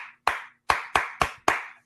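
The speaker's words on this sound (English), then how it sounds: "why did they clap a certain way?" Hands clapping a church-style rhythm in the AME tradition: six sharp, close claps in an uneven, syncopated pattern, alone and clear.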